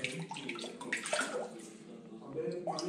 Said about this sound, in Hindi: और हम लोग का भाई साफ कर रहा है यहाँ पे पानी